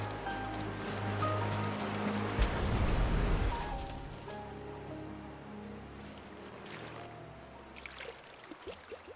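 River water flows and rushes in the video game Final Fantasy 16, a broad steady wash that swells then settles into a softer ongoing flow, with no talking.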